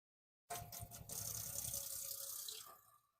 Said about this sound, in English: Let's just turn this tap off because it's noisy.